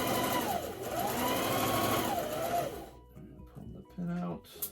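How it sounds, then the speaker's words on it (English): A sewing machine stitches a fabric mask hood in steady whirring runs with pitch swells for the first three seconds, then stops and starts in short bursts, close and loud with no talking. "I'm going to start sewing this way. Put my foot down"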